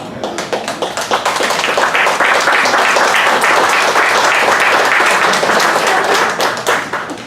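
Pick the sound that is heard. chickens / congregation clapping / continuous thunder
congregation clapping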